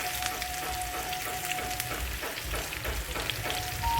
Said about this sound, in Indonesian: Bawang putih dan bawang merahnya kita goreng hingga layu